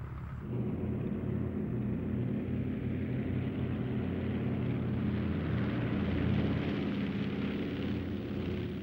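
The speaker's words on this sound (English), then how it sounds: "The bombers climb out over an English countryside, golden with the harvest, to wait for the remaining aircraft to lift off" A formation of World War II US bombers climbing out after takeoff over the English countryside. Their engines make a steady, heavy, droning rumble that holds at an even loudness throughout.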